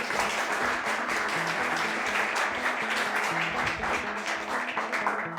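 A lecture audience at Gachon University applauds to welcome the vice president, dense, sustained clapping from many hands that holds steady for several seconds, moderately loud.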